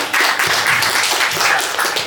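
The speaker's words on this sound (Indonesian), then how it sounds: "berikan tepuk tangannya dulu dong" An audience applauds, dense clapping filling the room loudly and steadily for a couple of seconds.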